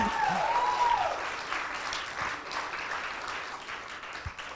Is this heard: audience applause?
yes